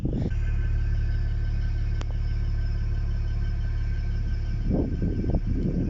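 A BMW E92 325i M Pack engine idles close by with a steady, low, smooth hum and a faint whine, one brief click midway, and a few rougher rumbling bursts near the end.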